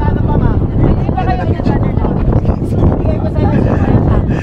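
Loud, constant wind roar buffets the microphone on a mountain hike at Mount Mariglem, Zambales, with people talking underneath and a dense rumble throughout.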